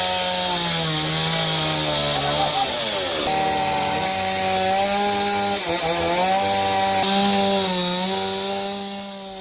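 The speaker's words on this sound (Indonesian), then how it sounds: "mulai palu hingga gergaji mesin" A chainsaw runs loud and close, its engine pitch dipping and rising as it bites into wood, with the buzzing sustained throughout.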